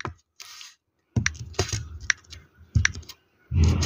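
Someone enters a PIN on a device, producing a few short, close tapping and clicking sounds in irregular bursts separated by brief silences.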